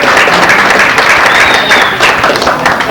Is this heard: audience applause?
yes